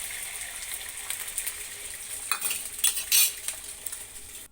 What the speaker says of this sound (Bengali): যে ডিম একসঙ্গে পেঁয়াজ লঙ্কা কেটে নিয়ে নিয়েছি, এটাকে এখন আমি ভাজা করব